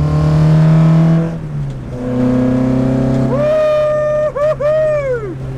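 A Ford Project 2000 Max Power demo car driving on the Donington track, its engine note rising and falling through gear changes, loud and close, with sweeping pitch shifts toward the end as revs climb and drop.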